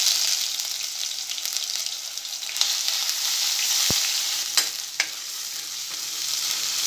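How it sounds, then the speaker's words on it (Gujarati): Ginger-chili paste sizzles steadily in hot oil with cumin and a pinch of asafoetida for a rustic green garlic curry, a broad crackling hiss with a few sharp spatters and stirring clinks, close and alone without talk. "એને આપણે એક થોડી વાર જ 20 સેકન્ડ જેવું જ આપણે સાતળી લઈશું"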